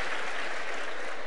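A studio audience claps at a televised political debate in Spain, producing a thick, even wash of applause that holds steady throughout, with no one speaking over it.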